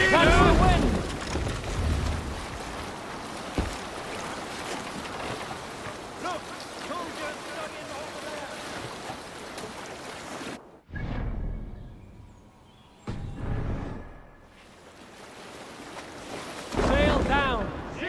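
A sailing ship at sea in Assassin's Creed Valhalla, with loud, steady wind and surf roaring against the hull, then dropping away into quieter wave swells and shouted crew calls before the rush returns.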